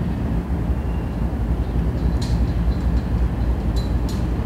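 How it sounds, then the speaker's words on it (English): Train rumbling past on the Lackawanna Cut-Off rail line, a loud, steady low roar of wheels and cars with faint higher squeals toward the end, heard without speech. "Hey, there's a train."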